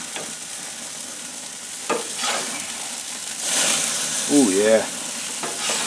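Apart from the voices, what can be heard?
burgers frying in a pan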